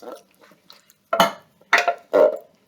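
Canned diced tomatoes tipped undrained into a pot, giving three wet thuds and glops close by, with softer clinks and scrapes of the can before them.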